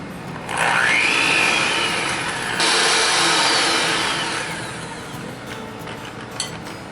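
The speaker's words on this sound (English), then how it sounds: "with the hand mixer, this time I'm just going to cream my butter and my sugar until it's fluffy" A hand mixer whirs loud and close as it creams butter and sugar for a Pennsylvania Dutch Montgomery pie, its motor pitch rising at the start and then holding a steady buzz before easing off.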